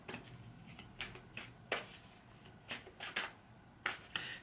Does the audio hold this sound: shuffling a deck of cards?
yes